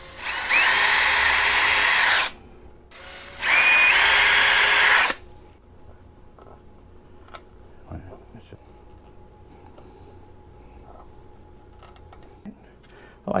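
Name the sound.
drill drilling mounting holes in Telecaster guitar body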